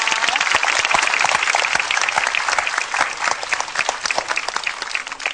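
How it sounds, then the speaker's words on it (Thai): Studio audience applause on a Thai television game show: dense clapping with many distinct sharp claps, strong at first and gradually thinning toward the end, with no speech over it. "ปรบมือให้น้องขวัญหน่อยนะ"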